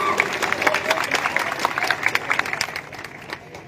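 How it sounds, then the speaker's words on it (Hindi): A crowd at an evening gathering held in honour of Tipu Sultan breaks into sustained, dense clapping for the young organisers, loud and close at first, then gradually thinning and fading over a few seconds. "एक बार जोरदार तालियों के साथ उनका इस्तकबाल होना चाहिए।"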